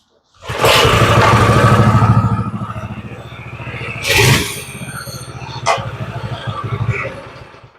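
A minibike with a 212 engine on full choke starts up and revs loudly nearby, a rough low rumble with a sharp rev surge midway before settling into a fluttering idle.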